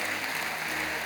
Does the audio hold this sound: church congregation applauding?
yes